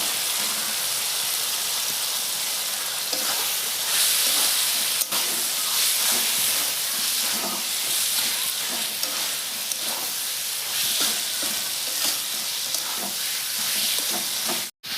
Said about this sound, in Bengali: আলু দিয়ে কিছুক্ষণ কষাইছি